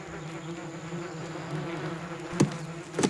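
Bumblebees hum with a steady, low droning buzz close by, with a couple of brief louder passes near the end.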